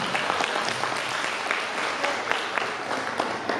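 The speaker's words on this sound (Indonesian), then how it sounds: "Beri tepuk tangan untuk kita semua." An audience at a parenting seminar claps together, a dense and fairly even burst of applause that holds steady throughout, moderately loud and filling the room.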